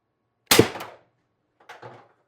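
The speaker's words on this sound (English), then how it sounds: "Mag 3, shot 2." A TR50 Torpedo CO2 air gun firing a 12.7mm ball bearing: one sharp, close pop with a short tail, followed a second later by a fainter thud of the impact.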